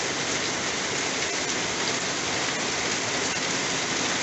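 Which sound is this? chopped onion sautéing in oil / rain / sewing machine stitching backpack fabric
rain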